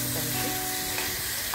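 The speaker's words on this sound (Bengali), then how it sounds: "এবারে আমি মশলাটাকে কষাবো।" Spice paste with ginger, cooked for a pankal eel fish curry, fries and is stirred in a pan: a steady close sizzle with scraping stir strokes throughout, no voices.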